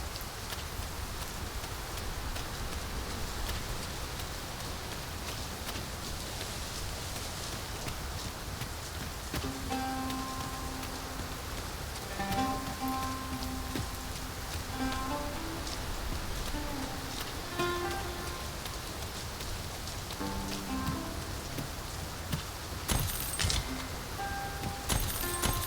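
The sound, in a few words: rain falling in video game Dragon's Dogma 2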